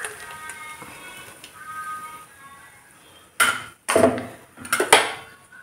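A utensil stirs ground tomato into sautéed onions in a pan for Arabian kabsa: quiet kitchen background at first, then several loud metallic clanks and scrapes against the pan in quick bursts.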